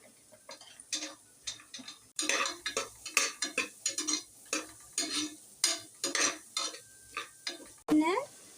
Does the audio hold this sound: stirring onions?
yes